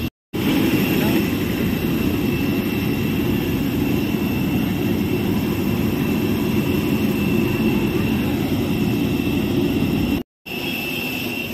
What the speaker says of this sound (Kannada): ಏರೋಪ್ಲೇನ್ ಹತ್ರ ಇದ್ದೀವಿ